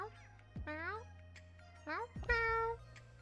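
A street cat meowing in the video game Boyfriend Dungeon, a few clear, close meows spaced apart, with game chimes faintly around them.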